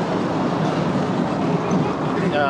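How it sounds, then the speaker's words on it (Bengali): A small children's toy train at Dream Holiday Park amusement park rumbles steadily past nearby, a continuous clattering drone with no pauses. "দেখতে পাচ্ছেন আমাদের বুলেট ট্রেন।"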